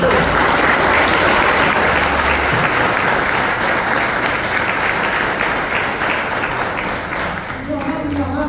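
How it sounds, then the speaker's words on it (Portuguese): A church congregation applauds after the Gospel reading at Mass, a dense, loud, steady wash of clapping that fills the space for several seconds, with some voices mixed in before it thins toward the end. "Vamos dar uma salva de palmas para a palavra de Deus."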